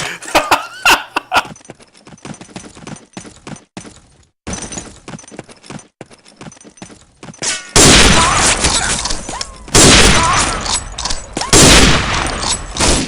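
Bursts of gunfire from the World War II shooter Day of Defeat, with rapid volleys of shots that start sparse and grow into loud, dense sustained firing near the end.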